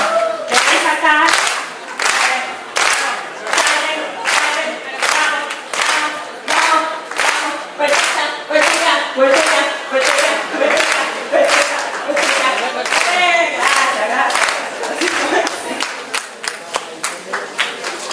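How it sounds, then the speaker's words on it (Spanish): An audience claps and jumps in unison at a motivational Human Resources talk, loud rhythmic beats repeating steadily for many seconds, close and energetic, with a few voices shouting along. "Cada vez que es así, ustedes saltan y aplauden."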